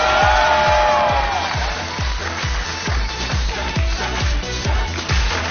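A studio audience applauds and cheers on a Chinese TV talent show, loud, dense clapping with a swell of crowd noise and music fading under it.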